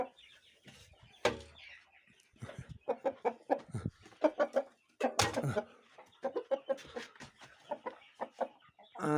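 Chicks and hens in a poultry enclosure cluck and cheep close by in quick, irregular bursts, with a few louder squawks and a brief knock partway through.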